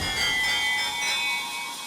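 Bells ring in a bright, shimmering sustained wash of metallic tones, fairly loud and fading slightly toward the end, with no voices.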